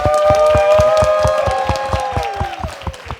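Audience clapping for a musician and singer from the Central African Republic on a Burkina Faso television show, rhythmic, loud, close hand claps in a steady beat under sustained musical tones that slowly fade.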